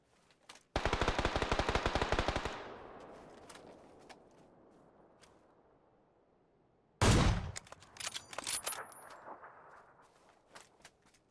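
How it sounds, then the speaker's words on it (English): Gunfire in the shooter video game PUBG: a loud sustained burst of automatic fire for about two seconds, a quiet stretch, then another sharp volley followed by scattered shots and clatter. "We hear that Orm shot"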